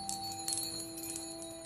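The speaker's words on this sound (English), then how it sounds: "Like sort of fairy bells. I think that's a wonderful sound." Small handmade bells, struck with a little hammer, ring with thin, sustained, steady tones, quiet and close, with light tinkling touches layered over the held ringing.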